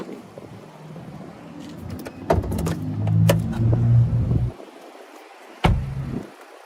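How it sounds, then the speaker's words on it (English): Clunks and rustling from popping the hood of a 2022 Nissan Altima SR, a latch release followed by a rising rumble of handling, then a single sharp thunk, close and moderately loud, no talking. "Now we're going to go ahead and pop the hood."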